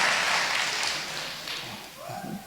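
An audience at an annual members meeting gives a round of applause for a staff member, a brief soft clapping that fades as a voice comes in near the end.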